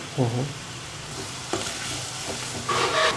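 Chitranna gojju paste with salt and turmeric frying in a pan, with a steady sizzle and a few stirring scrapes; brief voice-like tones are heard faintly at the start and end.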